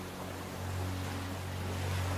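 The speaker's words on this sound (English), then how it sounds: "Allow the sound of the waves to calm your mind." Ocean waves wash in a soft continuous surf, rising gently in loudness, beneath a low sustained musical drone.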